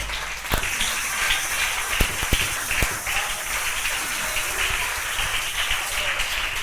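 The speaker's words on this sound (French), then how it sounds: "Si vos mains sont libres, on acclame le Seigneur très très fort." A church congregation claps and cheers for the Lord during a sermon service, dense sustained applause with a few sharp louder claps, heard from within the crowd.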